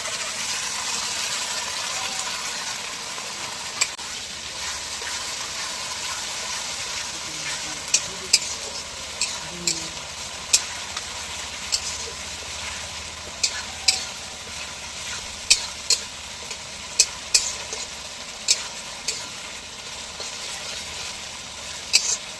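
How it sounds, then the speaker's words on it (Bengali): Onion and garlic fry in hot oil for a meat curry at an outdoor camping setting in the Sundarbans, a steady close sizzle with a low engine-like rumble beneath and sharp clinks of a stirring spoon against the pot growing more frequent. "তো এখন মাংসটা রান্না হবে, এখন এই পেঁয়াজ রসুন দেওয়া হয়ে গেছে।"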